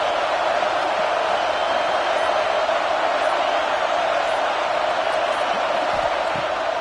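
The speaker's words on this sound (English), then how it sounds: "The Buckeye crowd alive on third down." An Ohio State Buckeye football stadium crowd roars in a continuous, dense wall of cheering noise on a third down, loud and sustained throughout.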